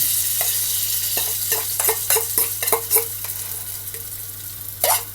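Scrambled eggs stirred in a sizzling pan for a truck-cab breakfast of egg and bacon, with a steady frying hiss under a run of spatula scrapes and taps against the pan, then a louder clatter near the end.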